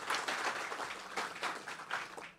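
Round of applause for social media contestants at Fippy Fest 2024, a dense crowd of clapping hands rising in waves and holding steady for a couple of seconds.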